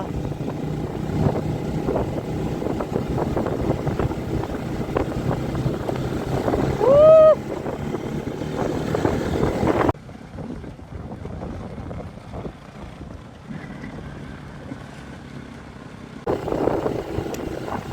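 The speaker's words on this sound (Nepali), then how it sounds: "हावा लागिरहेको छ यार" Wind buffets a microphone beside a river, a steady broadband rumble with gusty swells, dropping away partway through before picking up again; a brief whistling tone rises near the middle.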